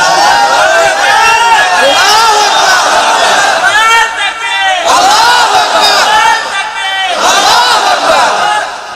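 Loud crowd chanting slogans in unison at an Islamic religious gathering in Dhaka, rising as massed shouted phrases in repeated waves with brief dips between them, close and overwhelming.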